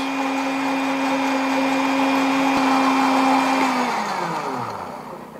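A blender grinds garlic to a fine paste, its steady motor whine running loud and unbroken for several seconds before winding down as it is switched off near the end.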